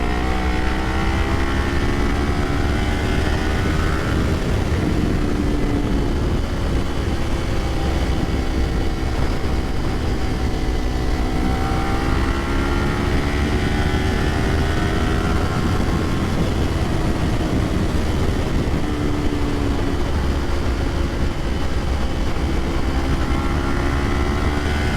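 A Kawasaki Ninja motorcycle is ridden on the road, its engine droning steadily with rising and falling pitch as it accelerates and shifts, loud and continuous over wind noise.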